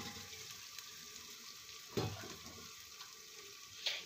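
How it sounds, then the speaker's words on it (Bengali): Ginger-garlic paste fries with spices in a pan, making a steady, soft sizzling hiss broken by two brief utensil clanks, with no voices. "তো আদা রসুন বাটাটাকে আমি ভালো করে কষিয়ে নিচ্ছি"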